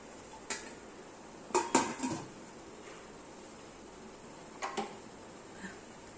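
Steel steamer plates for sago papad clatter as they are lifted out and slid back in, a few sharp metallic clinks near 1.5–2 s and again near 4.7 s over a quiet kitchen background.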